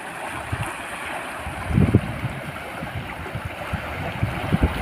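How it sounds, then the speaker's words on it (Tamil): Turbulent floodwater from heavy rain rushes steadily in a broad, noisy wash, with gusty low rumbles and occasional surges; no voices. "தண்ணி போகிற வேகம் இந்த தண்ணி எவ்வளோ தூரத்துக்கு போயிருக்கு பாருங்கள்"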